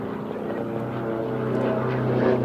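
A propeller-driven aerobatic airshow plane drones steadily through a crooked loop, its engine note holding a continuous hum that slowly swells louder, with no voices over it.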